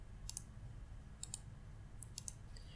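Three paired computer mouse clicks, each a quick double tick, sound at even intervals over a quiet background hum, close and crisp with no talking.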